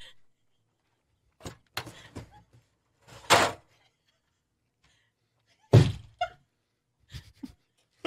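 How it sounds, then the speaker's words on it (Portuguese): A door is kicked, giving several heavy, sharp thuds and bangs spaced irregularly between stretches of near silence, close and loud, with brief bits of voice. "Pareceu até eu chutando a porta."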